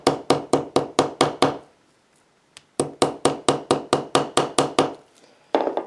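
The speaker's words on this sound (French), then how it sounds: "À l'aide du marteau ivoire, je vais venir taper les coutures" Crisp, sharp taps of an ivory hammer on the stitched seams of vegetable-tanned leather: a quick run of evenly spaced blows, a brief pause, then another steady series, close and loud.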